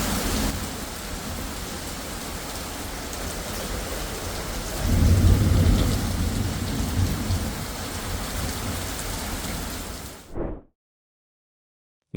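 Heavy thunderstorm over Aragon, Spain, with a torrential downpour: dense, steady rain hiss with a deep rumble of thunder swelling midway, loud and close, then cutting off abruptly near the end.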